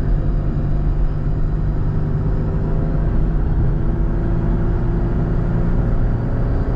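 Engine of a 1997 Pontiac Firebird running while the transmission shifts through gears, a loud, steady low rumble heard from inside the car with no talking.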